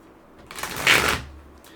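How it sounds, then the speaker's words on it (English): A deck of tarot cards riffles in one quick shuffle, a brief papery flutter swelling to a loud burst and fading within a second, close by with no talking. "I cannot shuffle this deck anymore."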